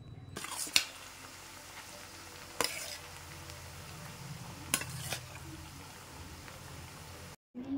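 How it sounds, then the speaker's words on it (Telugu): Marinated chicken frying with onions in a pan for Hyderabadi chicken dum biryani, giving a steady low sizzle with occasional sharp scrapes and clinks of a spoon stirring, close, with no speech. "ఆనియన్స్ కూడా లైట్గా ఫ్రై అయిన తర్వాత మనం ఫ్రై కోసం మ్యారినేట్ చేసి పెట్టుకున్న చికెన్ ఉంది కదా, అది ఇందులో వేసేసి బాగా ఉడకనివ్వాలి."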